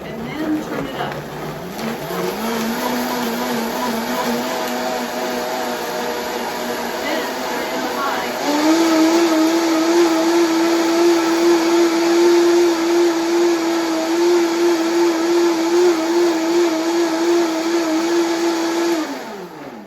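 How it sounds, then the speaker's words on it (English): A Vitamix blender whirs through green whole juice made with orange, its motor starting low then jumping to a higher, louder steady pitch partway through, running continuously and close. "Now the important thing to know on the Vitamix is that you've got a variable speed, so start on low, make sure it's on variable, and then turn it on"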